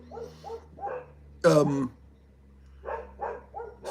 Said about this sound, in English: Fucking dogs are unbelievable, man.